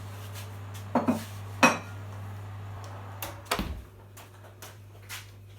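Plates and cutlery clink as flaked fish is spooned onto rice, a few sharp, separate knocks over a steady low hum in a quiet kitchen.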